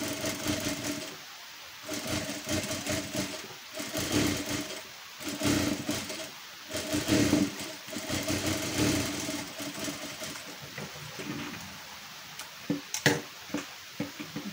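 A sewing machine runs in repeated bursts of stitching, whirring loudly and stopping briefly between runs, as a strip is stitched onto the back piece of a blouse.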